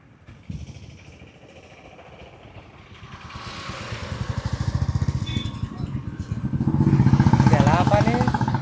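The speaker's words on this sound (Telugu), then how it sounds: "సో మా బ్రదర్ అయితే అక్కడ బైక్ తీస్తున్నాడు" A motorcycle is wheeled out and started nearby, its engine rising to a steady, throbbing idle that grows louder toward the end, with voices talking over it.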